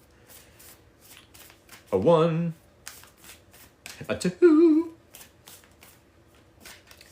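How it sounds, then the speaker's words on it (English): Tarot cards are shuffled by hand in two quick, close riffling bursts, with a soft voice counting between them. "3 more shuffles."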